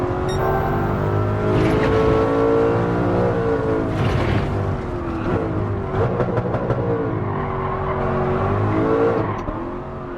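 Alfa Romeo 8C race car in a racing video game, its engine droning loud and continuous with rising and falling revs through gear shifts across the whole stretch, no talk.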